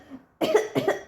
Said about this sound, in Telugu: అమ్మకు దగ్గు వస్తుంది